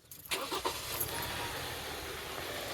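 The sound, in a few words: 2016 Kia Sorento engine running with a misfire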